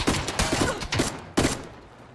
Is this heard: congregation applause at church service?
no